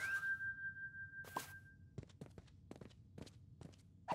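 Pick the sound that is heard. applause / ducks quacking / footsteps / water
footsteps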